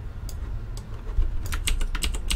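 Typing on a computer keyboard during a live music-production stream, a quick irregular run of close key clicks that grows busier toward the end, with no talk.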